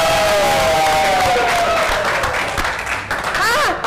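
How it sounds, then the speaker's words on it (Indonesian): Lively audience applause breaks out at a community iftar gathering, with dense clapping, scattered cheers and whoops from a crowd, and voices mixed in underneath. "Kita present dulu tepuk tangan yang meriah untuk Anissa Aulia Marbu."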